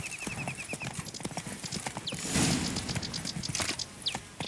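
Horse hooves clip-clop at a steady walk with creaking tack, and a whinny rises midway, all from The Witcher 3 video game, moderately close with a faint whistling tone early on.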